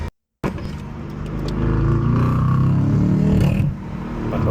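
Tuned BMW M850i with a downpipe and 4.4-liter twin-turbo V8 pulling hard, a loud, close engine roar that swells and holds for a few seconds, then drops away.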